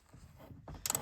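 A wrench working a bolt on the wiring harness box of a 2021 Camaro SS 1LE, giving a brief quiet mechanical clicking and ratcheting, ending in a sharper metallic tick, close and alone.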